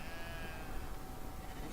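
A sheep bleats in the puzzle adventure game Brothers: A Tale of Two Sons, a short wavering cry over a dense, noisy background of game sound.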